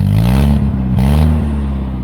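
An A-series engine in a Turner Ranger mini-based tractor revs up close by, with a steady low rumble, a few small stutters, and the engine running on only half an exhaust.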